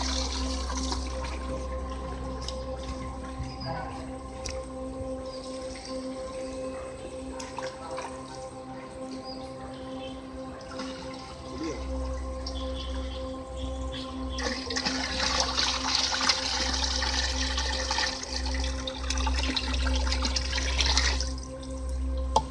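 Water runs and splashes steadily into a container while a waste decomposer solution is prepared, with a constant hum under it and a louder, fuller gush toward the end.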